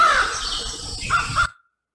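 A dove released by Noah in a children's retelling of the ark story gives a brief bird call, a few squawking chirps over a steady backdrop before cutting to silence.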